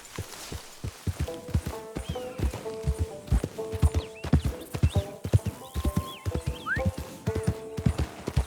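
Steady clip-clop of horse hooves trotting at a brisk, even rhythm in a Wild West survival video game, with a few short whinnies and soft tonal chimes layered over the footfalls.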